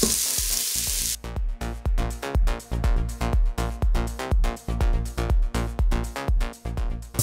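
Vegetables frying in a non-stick pot inside a pressure cooker, being stirred: a steady loud sizzle broken by repeated rhythmic scraping and clattering strokes of the spoon, no talking.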